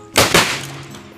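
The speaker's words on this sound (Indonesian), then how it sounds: "Kesimpulannya, mercon spiritus ini sangat mantap sekali." Homemade spirit-fuelled firecracker (mercon spiritus) going off: two sharp, loud blasts in quick succession, then a booming, ringing tail that slowly dies away, with no talking.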